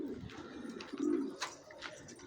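Pigeons coo softly in low, throaty repeated calls, fairly close, with faint chirps and rustling around them.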